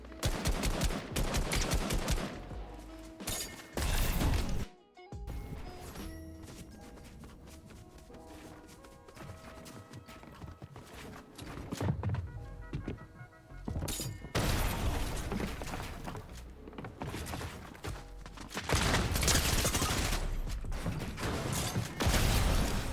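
Gunfight in the video game Fortnite, with shotgun blasts and other weapon fire cracking in loud bursts and clusters, separated by quieter stretches of in-game mechanical and movement noise.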